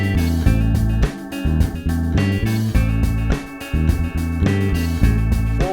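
Electric bass plays an extended blues turnaround that moves through the five and four chords several times before landing on the one, heard as a steady, loud line of repeated low notes with a rhythmic pulse, no voices.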